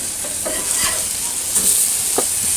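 Chorizo burgers sizzling on a grill with a steady frying hiss, broken by a few brief scraping clicks as the patties are flipped.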